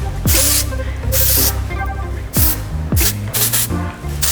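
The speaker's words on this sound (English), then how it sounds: "you can just spray them a little with texture spray" Several sharp hisses from an aerosol can of texture spray applied to braided hair, short bursts with brief pauses between them, close and loud.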